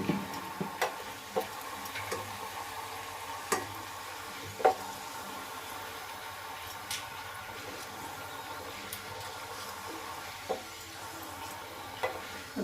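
Fafda, a Gujarati gram-flour snack, fries in hot oil and gets turned about for a minute, a soft steady sizzle broken by occasional light ticks and clinks of the utensil, close but quiet.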